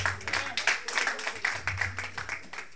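Church congregation clapping together, a fast rhythmic series of sharp claps at a steady beat, with voices mixed underneath.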